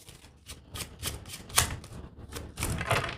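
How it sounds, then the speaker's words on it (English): Playing cards riffle and snap in a series of quick crisp bursts, close by, with brief pauses between shuffles. "We're going to shuffle the cards like this."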